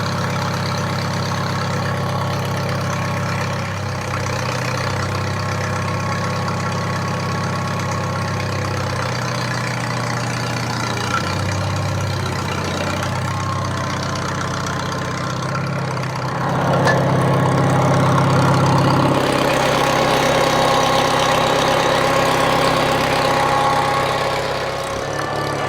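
IH Farmall 140 tractor engine idling cold, a steady, loud mid-low rumble with slight unevenness that continues throughout and grows a little louder partway through.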